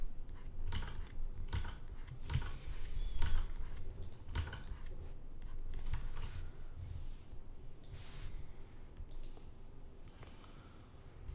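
Computer mouse clicked during digital drawing of character expressions: scattered sharp clicks at irregular intervals, close and fairly quiet, over a soft background hiss.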